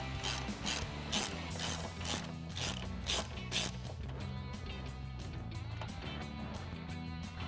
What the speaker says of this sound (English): grab your 10mm socket again and go ahead and remove the bolt holding on the airbox